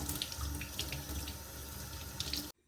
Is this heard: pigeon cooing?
no